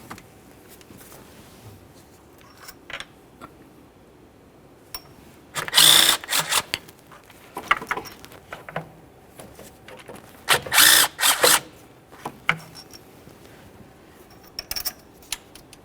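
Power tool backing out a valve cover bolt on a 1998-2011 Ford Ranger 2.3L four-cylinder, heard as two short sharp whirring bursts among scattered clicks and metallic taps, close by in a quiet garage.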